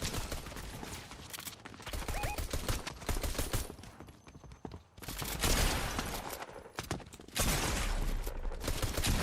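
Pistol shots in a video game, heard as repeated sharp cracks among chaotic, loud in-game action noise, with heavier bursts in the second half.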